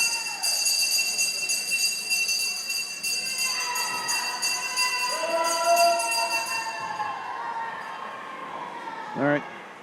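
A ringing bell signalling the final lap rings repeatedly at an indoor swim meet, a bright metallic tone sounding over crowd noise and an announcer's commentary echoing in the natatorium.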